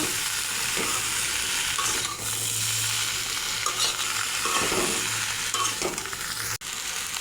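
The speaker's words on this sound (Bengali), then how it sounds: "একটু মশলার সঙ্গে সবজিটা মিশিয়ে নেব" Pumpkin and Malabar spinach tossed with fried spices in a pan give a steady, close sizzle with repeated scraping stirs throughout.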